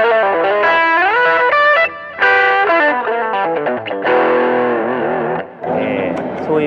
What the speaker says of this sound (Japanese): この BB ブースター、 これもなんか 歪み、まあ、強い歪みのもの多いですけれども